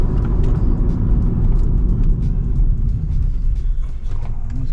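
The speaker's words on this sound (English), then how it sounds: "Pretty much you want to do a couple good, solid stops from about 45-ish to get those things to smooth in." A Toyota Camry with new brake pads makes hard stops to bed them in, heard from inside as a loud, steady road and engine rumble that eases slightly toward the end.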